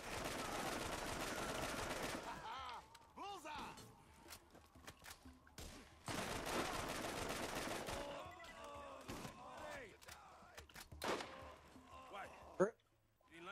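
Sniper rifle fire in the Borderlands video game cracks out in bursts amid dense gunfire and game noise, with people talking over much of the shooting and a sharp single shot near the end.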